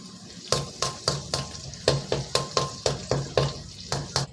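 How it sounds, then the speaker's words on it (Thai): Garlic fries in a hot pan, salted for crispness, while a utensil stirs and scrapes it in regular strokes, about a dozen sharp clanks over a steady sizzle, close and fairly loud. "วิธีเจียวกระเทียมให้สีเหลืองสวยนะครับ"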